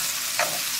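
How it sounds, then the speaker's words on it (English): A vegan fried rice stir fry with diced mushrooms is stirred in a pan: a short scrape over a steady frying hiss, close and fairly loud. "Stir some more."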